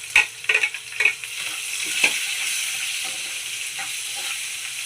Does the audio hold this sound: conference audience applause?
no